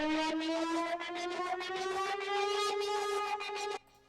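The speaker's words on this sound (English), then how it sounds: "So it's just a pulsating synth, and that is the kind of the sound of the flame." A pulsating synth tone standing in for a weapon's flame sound, its pitch climbing steadily over about four seconds with a fast rhythmic throb, then cutting off abruptly, alone and prominent.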